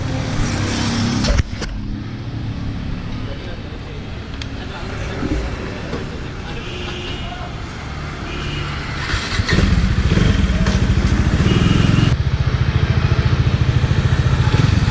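A 2019 Bajaj Dominar 400 motorcycle on a test ride, its engine running and revving with road and traffic noise around it, louder toward the end, while someone talks over it.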